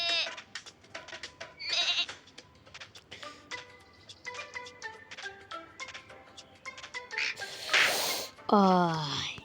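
Sheep and goats bleat over and over in an animal-catching video game, a run of close, nasal cries of varying pitch and length, some stacked together, with a sharper squealing bleat near the end.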